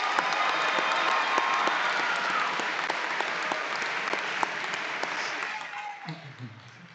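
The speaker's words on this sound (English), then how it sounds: "Students, let's give them a round of applause." Sustained applause from a graduation ceremony audience at Dixie Technical College, honoring the faculty; dense, steady clapping across the hall that thins toward the end as a voice begins.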